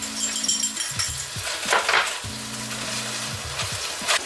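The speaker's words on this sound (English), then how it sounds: "let that just kind of combine up and simmer for a little bit" Shrimp lo mein sauce simmers and sizzles in a pan, a steady close frying hiss with occasional stirring clinks and scrapes, no voices.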